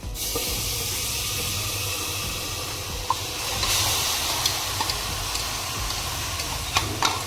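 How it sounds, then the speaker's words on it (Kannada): Chicken fries in a spiced masala with yogurt in a pan, making a constant, hissing sizzle with occasional stirring knocks and clinks, close and without speech. "ಚಿಕನ್ ಹಾಕ್ಬಿಟ್ಟು ಈ ಮಸಾಲನಲ್ಲೇ ಚೆನ್ನಾಗಿ ಫ್ರೈ ಮಾಡಬೇಕು ಚಿಕನ್ನ"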